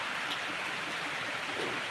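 Rain falls outside in a steady, even hiss that runs the whole time without breaks, soft and fairly distant, with no talk over it.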